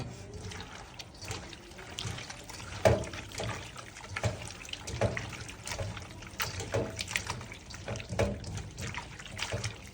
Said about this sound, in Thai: แล้วก็ใส่แป้งข้าวโพดล้างเมือกล้างกลิ่นคาว